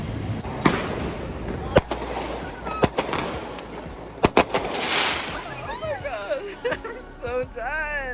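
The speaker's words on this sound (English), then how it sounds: "We thought it was a sparkler, ladies. It was not a sparkler. It was a fucking firework." Fireworks exploding outdoors in New York City, several sharp loud bangs at irregular intervals, followed by whistling, warbling shrieks, all under the babble and chatter of a nearby crowd.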